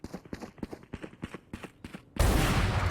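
In a Valorant esports match, rhythmic footstep-like taps give way to a sudden loud, sustained blast from an Operator sniper rifle shot at close range.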